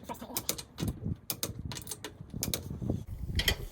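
Socket wrench tightening the wheel nuts on a car during a seasonal tire swap at home, a close sequence of sharp metallic ratchet clicks and clunks in irregular bursts, fairly loud and with no talk.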